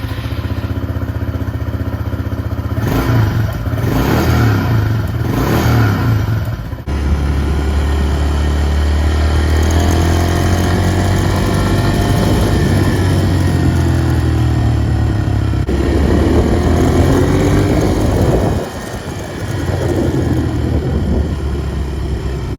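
A Honda CRF125F dirt bike with a TrailTech Vapor kit fitted, out on a test ride. Its engine idles steadily, then pulls away and holds a loud, buzzing mid-range drone through shifting revs before easing off near the end.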